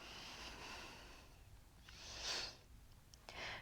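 Deep breathing during a gentle yoga pose: soft, close inhales and exhales through the nose, with a couple of louder breaths near the end, quiet and alone.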